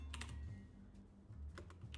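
Someone typing on a computer keyboard while entering a Korean sentence, quick bursts of soft key clicks with a short pause in the middle, close by over a low room hum.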